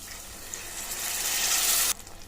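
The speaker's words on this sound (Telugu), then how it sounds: "ఇలా అంతా కలిపి పెట్టుకున్న తర్వాత వాటర్ వేసుకుందాము" Water is poured into gravy frying in a pan, a rising rush of hissing sizzle that swells over a couple of seconds, then cuts off abruptly to a quieter simmer.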